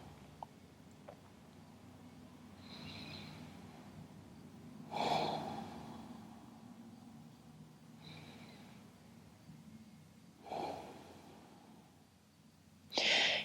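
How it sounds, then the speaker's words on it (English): Slow exhalations through the nose during yoga breathing practice: three soft, breathy rushes spaced several seconds apart, close and quiet in a calm room. "Exhale through the nose."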